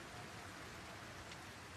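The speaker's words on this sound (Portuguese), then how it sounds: "Nossa, tá chovendo." Steady rain in the video game Grand Theft Auto: Vice City, a faint, even hiss of falling drops with no breaks, heard alone.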